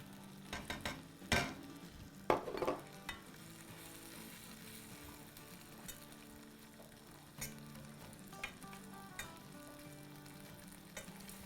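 Yogurt hits a hot pan of chicken pasanda and sizzles steadily, with a few sharp scraping stirs and clatters early on, then a quieter, continuous frying hiss.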